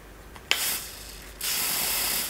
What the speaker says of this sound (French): Ah, c'est un spray continu.